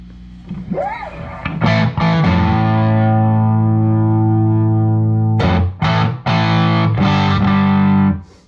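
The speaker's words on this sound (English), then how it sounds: "maybe I'll bring the gain back a little bit so it's acting like kind of just an overdriven amp" An electric guitar played through a Gjika Mini Amp EL84 power-tube pedal set to a moderate overdrive rings out in long sustained chords, one held chord followed by a few sharper strummed hits, loud and alone.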